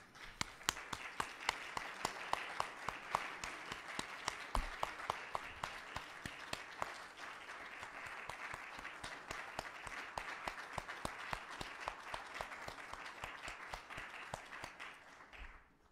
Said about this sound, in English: I'm going to give a round of applause